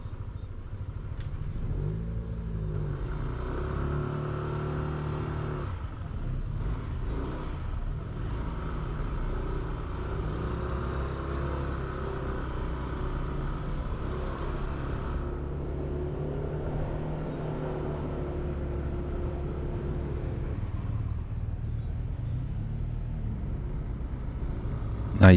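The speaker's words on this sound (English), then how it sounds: "now you can just listen to that sort of cheerful note from the single cylinder pounding away" A single-cylinder motorcycle engine thumps steadily while riding in crawling traffic, a continuous low, even rumble with a faint rise in pitch midway and occasional wind buffeting.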